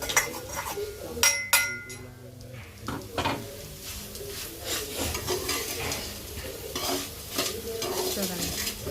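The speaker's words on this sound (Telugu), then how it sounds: "ఇంకా కాకరకాయలు కూడా ఫ్రై అవుతున్నాయి" Bitter gourd frying in a pan with garlic chili powder, stirred with a metal spoon: close clinks and scrapes against the pan over a soft ongoing sizzle, uneven bursts of stirring.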